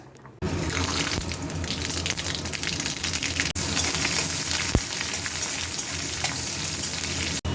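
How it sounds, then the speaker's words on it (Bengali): Bay leaf, dry red chilli, mustard seeds and onion hit hot oil for a dal tempering, giving a loud, steady sizzle that starts abruptly and crackles on without pause, with no talking. "এবারে ফোড়ন দেব তেজপাতা শুকনো লঙ্কা সর্ষে আর পেঁয়াজ"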